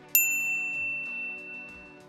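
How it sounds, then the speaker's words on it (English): A single bright notification bell dings once, then its clear metallic tone rings out and slowly fades over a soft musical backdrop. "ring the bell to get notified about our latest videos"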